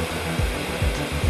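Hair dryer blowing during a blow dry with a brush, a loud steady close-up whoosh with faint rhythmic dips as the airflow shifts.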